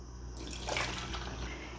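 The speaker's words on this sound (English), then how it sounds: "now we're going to pour the water inside the water reservoir." Water poured into the reservoir of a single-serve coffee maker, a soft splashing trickle that swells after a brief quiet start and stays fairly faint throughout.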